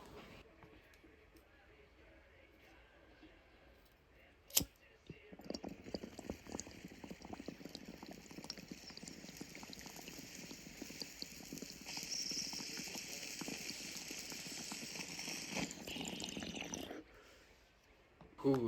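Bong water bubbling steadily through a long hit, a continuous gurgling churn that swells and holds for about twelve seconds after a sharp click, then cuts off.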